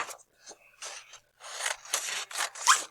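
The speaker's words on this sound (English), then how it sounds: "I'm going to cut almost a straight line right here" Scissors cut an almost straight line through craft material for a gnome project: a close, dry series of short snipping and rasping strokes, sparse at first, then longer and denser toward the end, with no talking.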